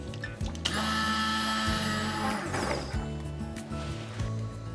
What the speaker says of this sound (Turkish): Çorbayı blenderdan geçiriyorum.